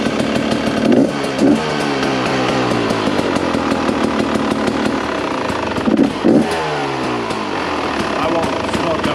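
Rieju Ranger dirt bike engine idling and revving steadily close by, with a rough continuous drone and two brief throttle blips, while people talk over it.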